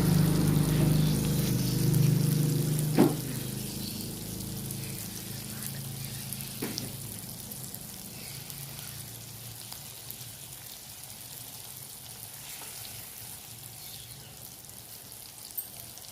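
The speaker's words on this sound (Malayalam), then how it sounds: "മീനിങ്ങനെ എണ്ണയിൽ കിടന്ന് വെച്ച് തിളച്ചുകൊണ്ടിരിക്കുകയാണ്" Pieces of snakehead (varaal) fish fry in hot oil. A soft, bubbling sizzle is louder at first and then settles into a quieter, steady hiss, with a few sharp clinks near the start, and nobody talks.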